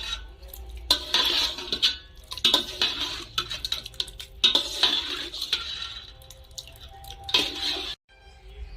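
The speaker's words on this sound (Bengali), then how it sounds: "ঘি ও গরম মশলা গুঁড়ো ভালো করে মাংসের সাথে মিশিয়ে নেব।" Meat mixed with ghee and ground garam masala in a pot, with repeated metal spoon scrapes and clinks against the pot over a soft sizzle, close and in a steady stirring rhythm.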